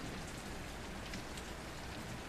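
Steady rain falls continuously, a dense even hiss of drops across the whole stretch with no voices or other sounds.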